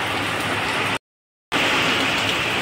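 Steady rain hisses, broken by a half-second gap of silence before the downpour resumes.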